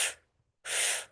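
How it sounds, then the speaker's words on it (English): Four short, sharp sniffs drawn in through the mouth during a breathing exercise, two bursts heard close and clear with a silent pause between them. "you're going to do 4 sniffs in through the mouth"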